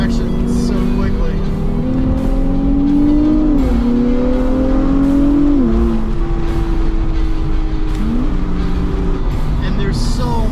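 Nissan Z NISMO engine pulling hard under acceleration on a rally drive, heard from inside the cabin as a loud, steady drone whose pitch climbs and drops through gear changes, with voices talking over it.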